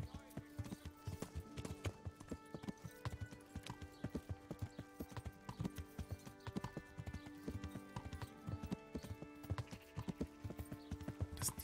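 Rhythmic clip-clop of horse hooves while riding in the video game Kingdom Come Deliverance, a steady continuous gait heard fairly quietly with soft game ambience behind it.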